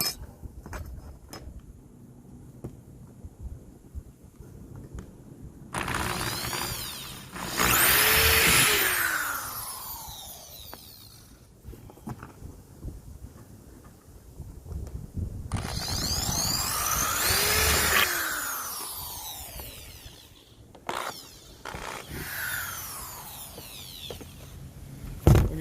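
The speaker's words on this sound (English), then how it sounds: "Using a 3/16 inch drill bit." Power drill with a 3/16 inch bit boring holes into roof vent framing on a Sun Voyager RV during a MaxxAir vent cover installation; two loud rising whirring bursts with quieter handling noise between.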